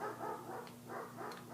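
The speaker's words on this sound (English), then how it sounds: "I'm sorry about the dogs. If you can hear them," Dogs bark outdoors in two short bursts of yips and barks, moderately distant and fairly quiet, with no talking over them.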